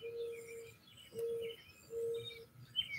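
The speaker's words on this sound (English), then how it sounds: "There's lots of birds here." Birds call outdoors in three evenly spaced, steady whistled notes, with fainter chirps scattered above them.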